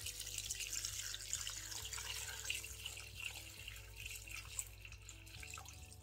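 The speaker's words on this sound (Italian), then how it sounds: "Ora andiamo ad aggiungere 400 g di acqua calda." Hot water, 400 g measured out, poured into a cooking machine bowl for purple cabbage risotto, a quiet continuous trickle and splash with small drips, heard alone.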